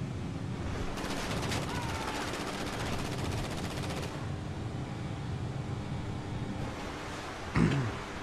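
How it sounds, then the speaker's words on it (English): Video game gunfire from shooting at people, with rapid bursts of automatic fire and shots under steady background noise and ambient game sound, ending in a brief thump. "it's because I'm shooting at people"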